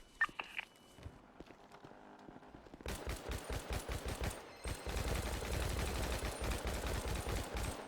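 Rapid bursts of video game gunfire, close and loud, break out after a quieter start and keep rattling in quick, uneven volleys, with short pauses between strings of shots.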